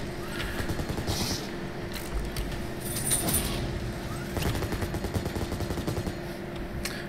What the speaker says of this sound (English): It shoots the rotating barrel bullets like the HMG, like the Tier 2, but it also shoots the rockets.